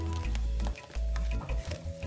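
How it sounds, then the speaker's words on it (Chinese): Black-eyed pea dumpling filling with dried radish stir-fried over low heat in a pan, soft sizzling broken by repeated scraping stirs of the spatula, close and steady. "在低火慢慢将所有食材炒香"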